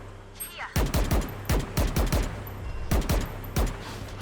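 Video-game gunfire from a new ORA weapon skin rings out in loud, punchy shots, about eight in quick irregular succession, each with a booming low tail.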